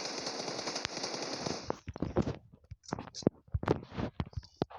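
Machine gun (PKK) fire in a team deathmatch shooter video game: after a steady, noisy stretch, a run of sharp, rapid shots crackles unevenly at close range and fairly loud.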